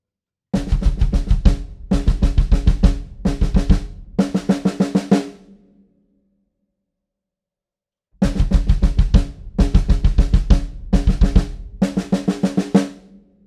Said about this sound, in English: we're just going to play the first set of snares from that pattern with no double kick underneath it